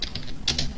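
Computer keyboard keys are typed while entering Java code, a few quick close taps at moderate volume with no voice over them.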